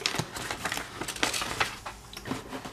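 Scissors snip through paper while a cube-shaped advent calendar is being made, sounding as a quick, irregular run of close, crisp cuts and rustles with short gaps between them and no voices.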